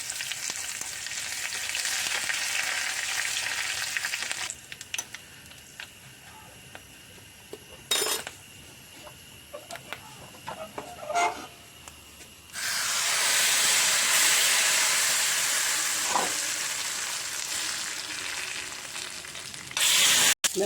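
Dried red chillies and curry leaves crackling in hot oil for a Kerala-style colocasia leaf curry: a loud, steady hissing sizzle that drops to quieter bubbling with a few utensil clicks, then surges back to a full sizzle.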